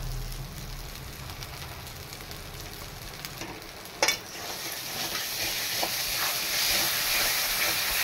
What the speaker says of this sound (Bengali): এবার কয়েকটা টমেটো চিড়ে দিয়ে দিচ্ছে।